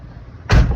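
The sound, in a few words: car door opening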